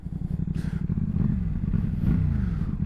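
A CF-Moto 450 SR-S motorcycle engine revs and builds under acceleration, with a steady, loud mechanical drone whose pitch rises in waves, close to the listener, with no speech.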